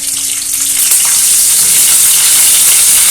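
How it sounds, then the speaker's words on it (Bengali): Vegetables frying in hot oil with panch phoron five-spice give a loud, steady, close sizzle that holds unbroken throughout, with no voices. "তেলের মধ্যে দিলাম 5 ফোড়ন। এই দেখো, সবজিগুলো এবার দিয়ে দেবো।"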